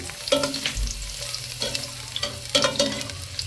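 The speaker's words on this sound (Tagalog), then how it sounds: "sabay na po natin ang ating sibuyas at bawang" Onion and garlic hitting hot oil in a pan to sauté, a close hiss of frying with a few clattering stirs and bumps, no voices.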